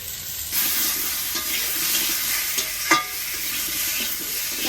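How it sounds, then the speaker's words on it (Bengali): Steady oil sizzle of potatoes frying in a pan in oil left from frying mola fish, with occasional stirring scrapes and a sharper clink near the end; no voices. "মরলা মাছের তেলেই আলুটা ভেজে নেব"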